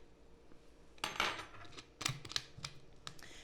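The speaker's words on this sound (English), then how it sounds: "And we'll give it a stir." A spoon stirs a Transfusion cocktail made with ginger ale in a glass, giving a few sharp close clinks in irregular bursts against a quiet background.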